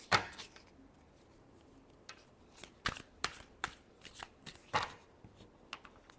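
Tarot cards are shuffled in a run of crisp riffling bursts and soft slaps, close and fairly quiet, with short pauses between the riffles and no voices.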